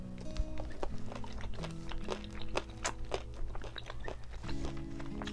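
Someone chews a piece of boiled king octopus leg cut in a stepped pattern, close and wet, with rhythmic squelching bites and crunches over several seconds and no talking.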